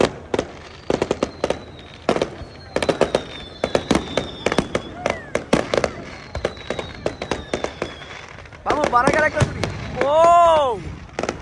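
Fireworks bursting at a New Year celebration, a rapid string of loud crackling pops and bangs followed by whistling rockets and a booming burst, with people talking underneath.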